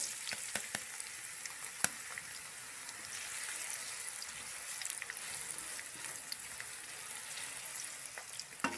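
Two finely chopped onions hit hot oil with warmed cumin seeds and fry in a steady, dense sizzle, with a few sharp crackles and spoon clicks scattered through it, no voices.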